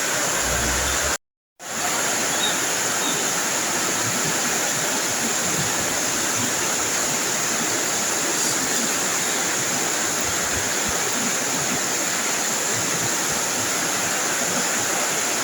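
Steady broadband rush of water flowing over a shallow stream near a small bridge, continuous and fairly loud, with one brief dropout near the start and no voices.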